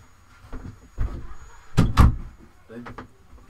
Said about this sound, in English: I'm just going to go and shut my door